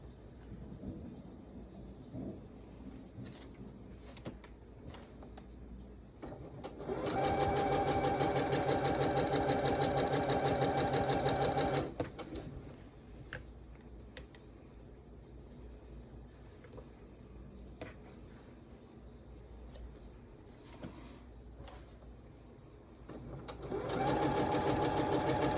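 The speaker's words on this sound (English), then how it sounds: "Sewing corner to corner this way." A sewing machine whirs steadily as it stitches a pressed flowers quilt block corner to corner, in two long loud runs separated by a quieter pause with faint handling sounds.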